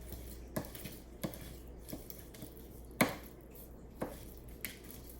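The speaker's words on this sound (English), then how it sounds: "just keep chopping it till you get it chopped up nice" Knife chopping cubed chicken meat on a cutting board while making egg foo young, a slow irregular series of distinct sharp knocks, close and fairly quiet, with no talking.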